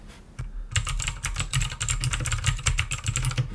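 Rapid, crisp clicky typing on an Abko K590 mechanical keyboard with blue switches, keystrokes tumbling steadily and close up, no voices.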